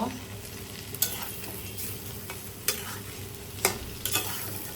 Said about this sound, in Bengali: হালকা একটু ভেজে আমি মাছগুলি নামিয়ে নেব